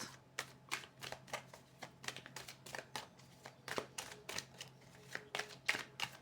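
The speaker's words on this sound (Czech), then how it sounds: "vezmeme si tarotové kartičky a vezmeme si tady tyto" Quick, soft riffling and slapping of tarot cards being shuffled repeatedly, close up and fairly quiet, with no talking.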